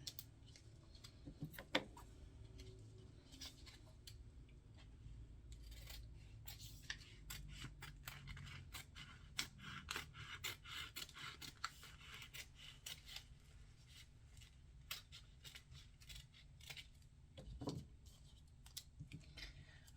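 Scissors cut through transfer tape in a run of quick, close snips and crisp clicks against a low background hum, with no talking.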